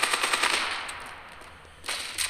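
Rapid gunfire from the mobile shooter game Standoff 2, a burst of automatic shots at the start, a lull, then a second loud burst near the end, heard alone without talk.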